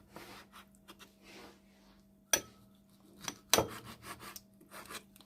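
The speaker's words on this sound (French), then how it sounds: "Je vais couper les branches d'asperges environ" A knife slices asparagus stalks into roughly 3 cm pieces, giving two crisp, distinct cuts among soft handling and tapping sounds, all fairly quiet.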